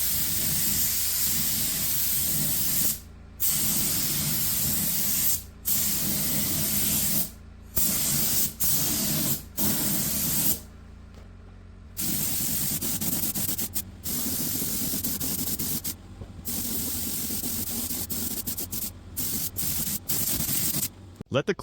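Spray can laying a second, heavier clear coat onto restored rusty wheel rims, with close, loud hissing bursts in repeated passes separated by short pauses.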